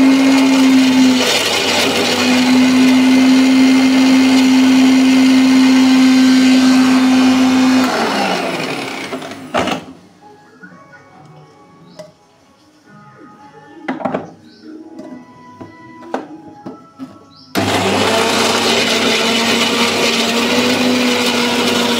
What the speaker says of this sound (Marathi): आता हे मी मिक्सरला बारीक करून घेत आहे पेस्ट